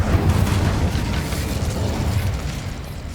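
A fire spell, Incendio, is cast in Hogwarts Legacy, giving a loud, sustained burst of flame with a heavy low rumble that holds steady for about three seconds.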